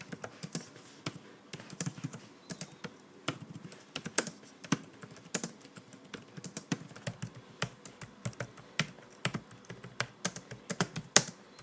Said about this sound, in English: Let's do a quick typing sound test right now.